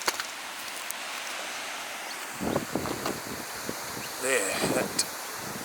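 Wind outdoors at an old manufacturing site with late-1800s houses, a steady broad rush buffeting the microphone throughout, with rustling gusts and someone speaking over it in the second half.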